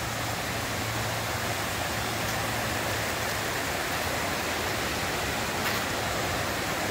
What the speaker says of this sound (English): the LansingKill has a waterfall of its own